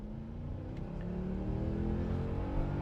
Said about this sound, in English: Let's even go down to first gear, okay? 3, 2, 1, go!